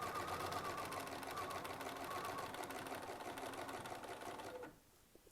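Steady, fast stitching from a sewing machine working on a quilt medallion, running close and continuous before stopping abruptly near the end, leaving a quiet pause.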